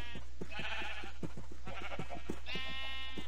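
Several sheep bleat in Minecraft, with short repeated bleats spread across the clip over a steady low background hum and faint soft thumps. Nobody speaks.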